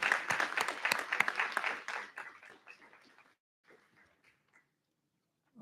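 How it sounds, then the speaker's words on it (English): Audience applause at a school board meeting, brisk clapping from a room of people that is loud at first, then thins out and fades to scattered claps and near silence. "Let's give a huge round of applause for our retirees and our staff"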